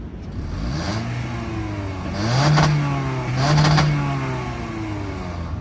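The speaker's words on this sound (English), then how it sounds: "that was the sound of the 2-liter 4-cylinder dual overhead cam variable valve timing 4-cylinder engine" A 2022 Toyota Corolla SE's 2-liter four-cylinder DOHC engine with variable valve timing idles nearby, then revs twice in quick swells, rising and falling smoothly back to idle.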